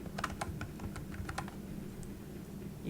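Quick, irregular keystrokes on a computer keyboard tap away close by in short bursts, with brief pauses and no voices.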